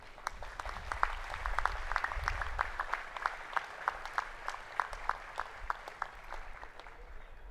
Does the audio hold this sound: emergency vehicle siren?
no